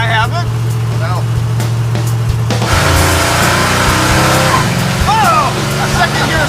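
A 1940 Ford's engine revs hard as its tires scratch on the shift into second gear, a loud surge of engine roar and tire noise with people talking and exclaiming over it.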